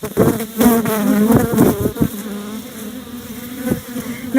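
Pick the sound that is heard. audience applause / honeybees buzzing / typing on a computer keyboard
honeybees buzzing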